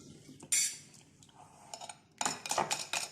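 A metal utensil beats seasoned ingredients (thyme, parsley, salt, pepper and garlic powder) in a bowl, giving bursts of close clinking and scraping separated by brief pauses, with no speech.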